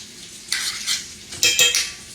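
A metal spoon scrapes and clinks against a pan in two short bursts as bacon grease is spooned in for sautéing, close and clear with no talking.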